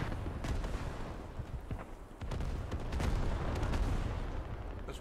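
Bombing close by brings a barrage of heavy booms and cracking blasts, rough and irregular, rolling one into another over a continuous low rumble.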